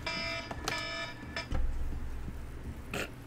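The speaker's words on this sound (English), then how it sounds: "That was my pizza timer." A pizza timer beeps as a harmonic alarm tone in short bursts over game sounds, loudest at the start and fading after the first second.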